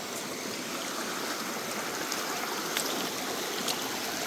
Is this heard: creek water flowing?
yes